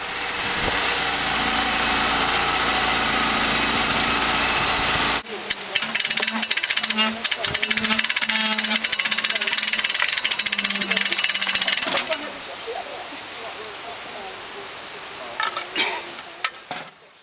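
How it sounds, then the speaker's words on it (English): Portable sawmill slicing the edges off a saw log, a steady loud mechanical roar for about five seconds, then rougher rhythmic cutting noise with knocks, fading to quieter machine running toward the end. "The first step will be to cut off the edges of the saw log to relieve the tension."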